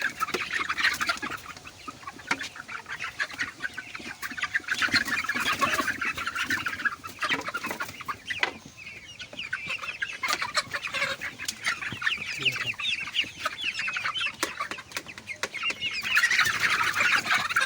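Chickens cluck steadily and close by, a busy flock chattering over a constant rustling background, with no voices.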